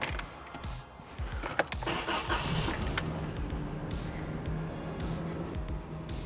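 A cold car engine is cranked and catches, a few seconds of starter whir and clatter that then settle into a steady low idle rumble, close and fairly loud.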